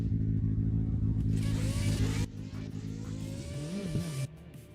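Drift car engine, converted from electric to gasoline, revving loudly with a steady droning tone at a drift qualifying event, then dropping to a lower idle with a brief rising-and-falling rev near the end.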